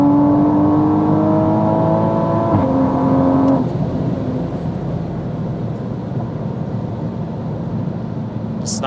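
A 700-horsepower MK5 Toyota Supra pulls hard from inside the cabin, its engine note climbing steadily then dropping with a shift around midway before settling into a lower, steady drone; no voices.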